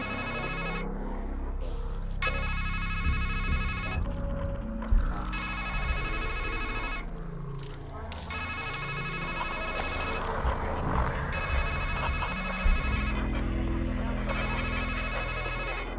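A telephone rings in the point-and-click horror game Strangeland (2021). About five bright, repeated ring bursts are separated by short pauses over a low, murky background.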